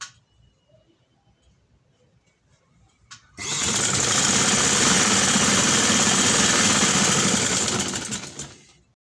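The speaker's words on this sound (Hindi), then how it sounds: "इसी तरह आपने इधर कंधे की सिलाई लगा देनी है।" After a few quiet seconds, a sewing machine starts up and runs in one long continuous whirring burst for about five seconds while stitching a shoulder seam on a ladies' garment, close and loud before winding down.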